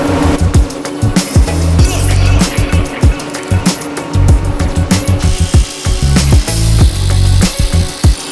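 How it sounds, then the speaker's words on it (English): A 12mm socket on a tool works the bolts of a plastic front cover on a 2025+ Toyota 4Runner during a skid plate install. It makes repeated short, loud, low whirring bursts with clanks and rattles between them. "we're going to be removing these 4 bolts, again using the same 12mm socket"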